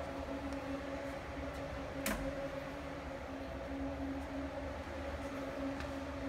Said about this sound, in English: What you're hearing are the electric fans.